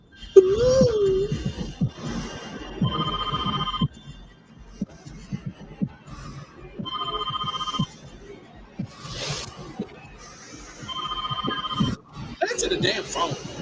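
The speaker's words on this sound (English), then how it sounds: "Answer the damn phone." An old-style telephone bell rings in a film scene, repeated bursts of ringing at regular intervals with pauses between, loud and close, while people speak over and between the rings.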